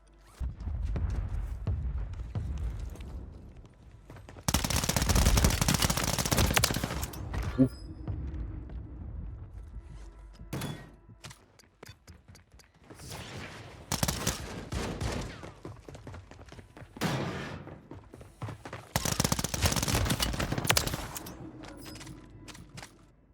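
Bursts of automatic gunfire in Call of Duty Warzone come in several loud, rapid volleys separated by quieter gaps with scattered single shots and game clatter.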